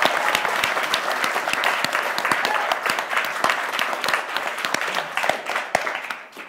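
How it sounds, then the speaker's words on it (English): Warm audience applause for a panelist at a politics panel discussion, a steady mass of clapping with sharp individual claps standing out, continuing throughout and fading slightly at the end. "Please give Rumana a huge applause"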